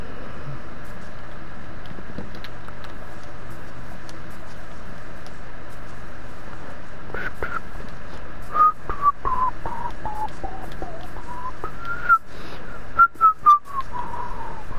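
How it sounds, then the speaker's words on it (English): A person whistling a faint wavering melody in short gliding phrases, heard during Minecraft play over a low steady background hum with a few clicks and knocks. "my whistling skills are not up to par right now"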